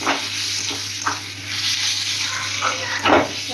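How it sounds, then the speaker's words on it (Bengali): Cabbage frying in a wok, a steady close sizzle with a few soft scraping stirs and a low background hum, with no talking. "একদিকে বাঁধাকপি ভাজা হচ্ছে আর একদিকে তোমার সোয়াবিন হচ্ছে"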